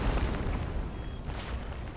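Cannon fire during a battle in Empire: Total War, with rolling booms and rumbling blasts layered over continuous battlefield noise at moderate loudness.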